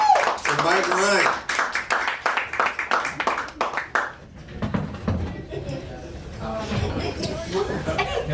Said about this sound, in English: Start clapping, start clapping, start clapping, start clapping.